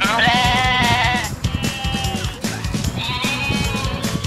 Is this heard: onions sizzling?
no